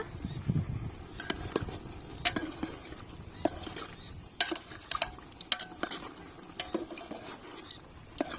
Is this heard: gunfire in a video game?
no